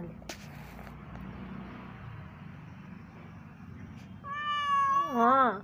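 A cat walks about making a drawn-out, wavering meow that rises and falls near the end, loud and close over a steady low background hum.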